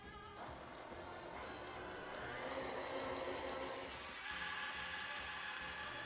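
A stand mixer whirs steadily as it beats pound cake batter with egg yolks mixed in, a continuous motor drone with rising tonal whine, loud and close, no talking.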